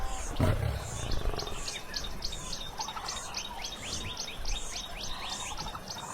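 An African lion roars, a few low rumbling bursts over a dense wild outdoor bed of chirping birds, fairly close and steady.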